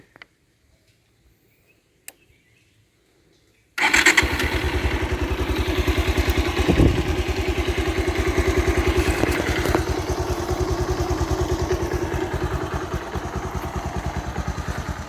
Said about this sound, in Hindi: तो अब मैं आपको बाइक का एग्जॉस्ट नोट एक बार सुना देता हूँ